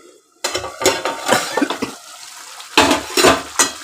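A lid is lifted off a pot of simmering mango chicken, giving clanking metal knocks and scrapes close by, followed by a few more clatters of cookware with no voices.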